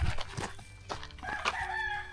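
Chickens and a rooster crowing on a rural Filipino farm, a string of clucks and bursts followed by a sustained crow, fairly close and alone without talk.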